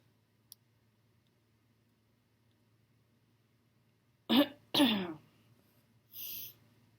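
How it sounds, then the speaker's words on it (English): Mostly quiet, then two sharp coughs in quick succession followed by a softer throat-clearing rasp, close to the listener. "If I wasn't talking, I wouldn't be coughing."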